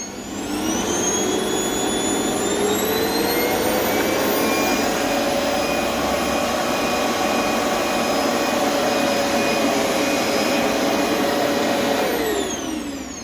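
A Hoover 2200-watt vacuum cleaner runs at its lowest speed with a loud, steady whine and roar. The motor spins up at the start, holds constant, and winds down at the end, with no voices.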